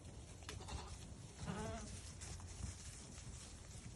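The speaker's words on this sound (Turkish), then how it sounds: "Bunlar e, dışarıdan gelen anaç koyunlar." Merino Landschaf breeding ewes, two to five years old, let out a single faint bleat out in a flock. A noisy outdoor background and insect-like hiss surround it.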